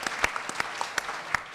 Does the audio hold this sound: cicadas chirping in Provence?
no